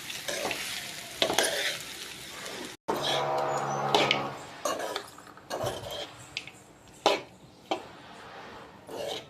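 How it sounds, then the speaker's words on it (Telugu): Cooked rice being stirred into fried curry leaves in a hot pan for lemon rice, with steady sizzling and repeated scraping and clinking of a spoon against the pan, close and moderately loud. "రైస్ వేసుకుని ఇలా మిక్స్ చేసుకోవాలి మొత్తం కలిసేలాగా."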